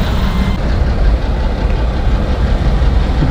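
A loaded freight train rolls past close by with a heavy, continuous low rumble and clatter of wagons.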